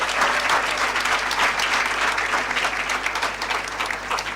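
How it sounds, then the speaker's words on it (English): Loud, close applause from an audience at a children's climate summit after a poem, many hands clapping vigorously and steadily with a low hum beneath, easing slightly toward the end. "All right, a round of applause, a round of applause."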